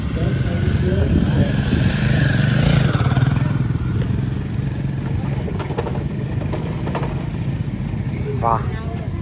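Motorcycle engines rumble low and steady during a slow biking race at a World Motorcycle Day bike event in Bangalore, with crowd chatter and a busy outdoor wash around them.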